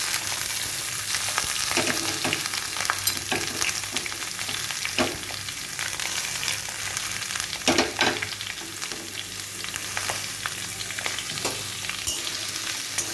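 Potato, capsicum, carrot, beans and onion sizzle steadily in a pan, with intermittent scraping and stirring sounds close by. No one speaks.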